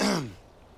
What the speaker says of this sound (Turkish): Hiç öksürme